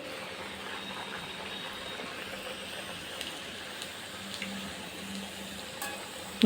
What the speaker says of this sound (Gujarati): આપણું તેલ ગરમ કરી લીધું છે આપણે તળીને બતાવીએ